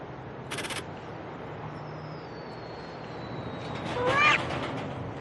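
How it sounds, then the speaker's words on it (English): Cats in a Whiskas cat food commercial let out a brief cluster of meows near the end, following a short sharp click, against a quiet, steady background. "These cats are totally ruining the experiment."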